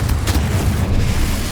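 A Confringo blast spell explodes in the video game Hogwarts Legacy: a loud, sustained low boom and rumble fills the moment, heavy and close, with no voices over it.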